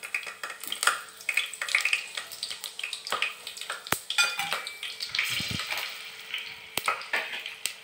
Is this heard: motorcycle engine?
no